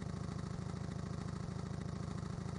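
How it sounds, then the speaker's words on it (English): A car engine in the Silent Hill Play Novel game idles steadily, a rhythmic low mechanical chug that stays even and moderately loud throughout, with no speech. "Is Sybil's engine running?"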